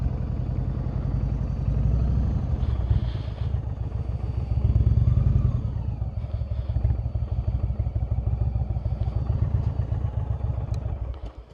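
A motorcycle engine thrums steadily and close up during a ride in Warrenton, Virginia, its low pulsing note rising briefly with throttle and then settling back to a constant rumble.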